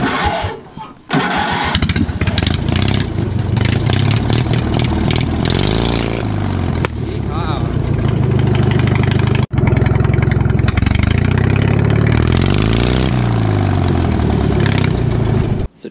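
A Honda GX240 engine on a homemade motorized lawn chair with 4x4 transmissions sputters, catches after a brief pull, and settles into a loud, close, rough idle with some revving, continuing steadily throughout.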